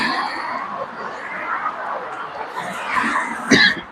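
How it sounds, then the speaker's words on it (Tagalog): A single sharp cough bursts out near the end, close and loud, following a stretch of low background murmur and movement. "Ay, sorry. Ubo."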